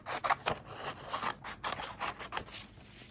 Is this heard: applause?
no